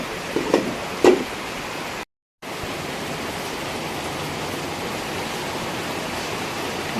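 Steady rain in Bicol, Philippines, a dense, even hiss of falling water that fills the whole scene, with a couple of brief knocks early on and a short dropout to silence.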